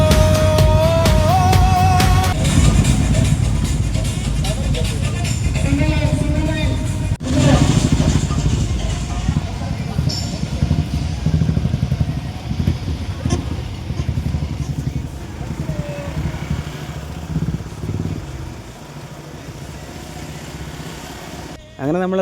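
Roaring engines from a moto fest group ride of about 140 motorcycles, a continuous dense rumble with revving and clatter, while people talk over it.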